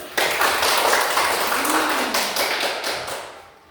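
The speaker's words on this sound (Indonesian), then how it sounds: "Tepuk tangan dulu." Children in a classroom clap their hands together in a dense burst of rapid, overlapping claps lasting several seconds, close and fairly loud, with no talking, then fading slightly toward the end.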